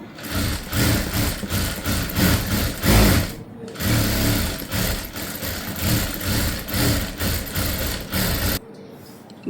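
An electric sewing machine stitching a prince cut blouse runs in fast mechanical bursts with a rapid chattering rhythm, stopping briefly near the middle before resuming and cutting off at the end, close and fairly loud.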